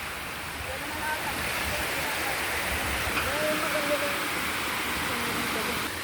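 Water flows steadily with a constant rushing hiss, like a nearby stream, with faint bird chirps and a soft voice underneath.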